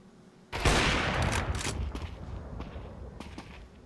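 A Counter-Strike 2 firefight in a professional match bursts in suddenly as a loud volley of gunfire, followed by a decaying rattle of further shots and echoes with no voices.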